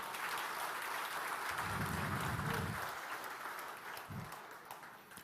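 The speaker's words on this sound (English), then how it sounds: "I want a round of applause for that" A corporate crowd at a performance event in Mumbai gives a short burst of applause in a large hall, swelling briefly and then fading, followed by a few more scattered claps.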